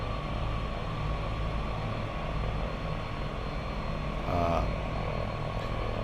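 A Dreamfoil Bandeirante twin-prop aircraft taxis in a flight simulator, its steady propeller drone and engine hum continuous and close, with a brief swell near the end.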